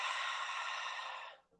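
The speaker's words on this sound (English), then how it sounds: "So it's a constricted exhale, like as if you're fogging up a mirror, but the mouth is closed." A single long, constricted Ujjayi exhale through the nose with the mouth closed, a soft hissing breath like fogging a mirror that fades out gently at the end.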